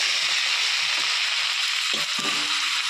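Boiled taro greens are tipped into a pan of frying spice paste, which sizzles in a constant hiss, broken by a few soft thumps and scrapes as the leaves land and settle.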